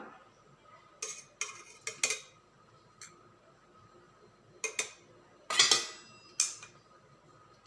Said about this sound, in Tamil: இந்த உலக்கில் ஸ்டாண்டை போட்டுட்டு கொஞ்சமாக தேங்காய் பூ எடுத்து போட்டுக்கலாம்